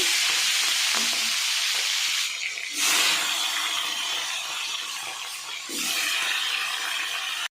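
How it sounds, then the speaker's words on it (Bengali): Taro heads frying in a hot, smoking pan give a steady, loud sizzle and hiss that briefly dips twice as the pieces are stirred or moved. "ধোয়া উঠছে, তাই এখন আমি মাথাগুলো ভেজে নিচ্ছি।"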